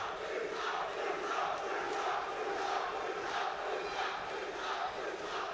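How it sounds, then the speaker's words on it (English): Boxing crowd at York Hall chanting in rhythmic, repeated swells, a dense roar of many voices filling the hall at a steady level. "the crowd chanting"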